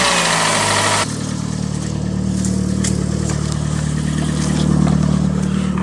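A VW Jetta engine idles after an oil pump replacement, with a steady, close, mid-pitched hum. A brief higher-pitched blip fades about a second in, then the idle settles evenly with light mechanical ticking on top.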